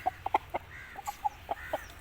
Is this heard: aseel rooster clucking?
yes